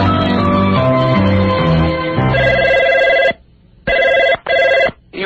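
A telephone rings loudly and close in repeated electronic trills, with a steady ringing stretch followed by two shorter bursts separated by silence.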